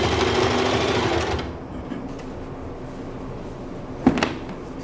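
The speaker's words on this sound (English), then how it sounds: "And then just sew a 1/2 inch seam." Sewing machine running a half-inch side seam on a remade halter top, a steady close mechanical whir for about a second and a half that then stops, followed by quiet room tone and a single brief knock.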